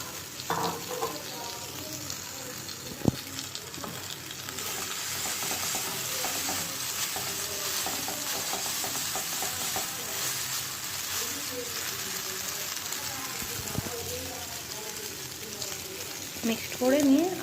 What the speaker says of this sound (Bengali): আর এখন দিয়ে দিচ্ছি সেদ্ধ করা ম্যাগিটা